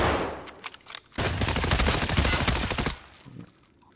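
Gunfire in Escape from Tarkov: a dense, loud burst of rapid automatic shots running for about two seconds, preceded by a few scattered single cracks and trailing off into quieter game sounds.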